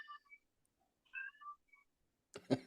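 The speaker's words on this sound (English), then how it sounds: "that's my cat." A house cat meows several times, short faint high-pitched calls with gaps between them, heard at a distance in a quiet room before a brief burst of other noise at the end.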